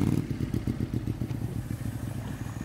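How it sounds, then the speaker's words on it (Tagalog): A motorcycle engine in the Roblox Brookhaven game putters at a slow, steady low throb with a faint rattling clatter, fairly quiet and without speech. "Mabagal itong motor ko kasi."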